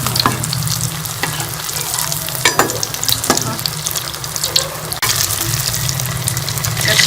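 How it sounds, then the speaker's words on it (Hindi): Egg and potato cutlets fry in hot oil in a pan, giving a steady, close crackling sizzle with a few sharper spits and clinks, and no voices. "तक दोनों साइड से फ्राई कर लेंगे"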